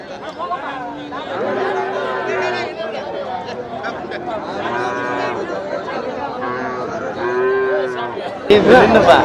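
Cattle, including a jallikattu bull, moo repeatedly with long, low calls over busy crowd chatter at the Melur cattle market, and the sound ends with a sudden burst of noise.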